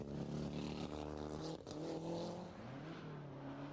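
A rally car at the 1989 Rally Côte d'Ivoire bounces over ruts on a gravel road, its engine droning loudly and shifting pitch as it accelerates away, with no voices heard.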